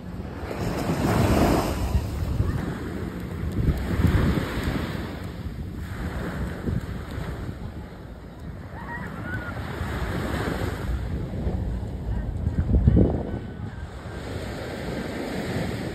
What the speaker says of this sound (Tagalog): It's heavy. It's a big wave.